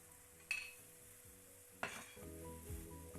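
Spoon stirring water chestnut flour sheera with coconut milk, cardamom and nutmeg in a pan over low flame, two sharp scraping clinks against a soft sizzle and faint background tones, no talking.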